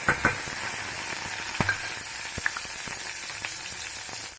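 Green chillies dropped into hot oil with cumin, fennel and chana dal for carrot rice, a steady close sizzle with scattered sharp crackles and pops, no voices, ending abruptly.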